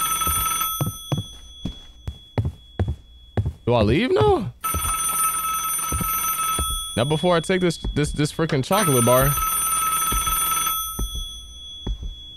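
Telephone ringing in the Roblox horror game DOORS, a repeated electronic ring with several bursts alongside a steady tonal alarm-like hum, heard under a player's talking throughout.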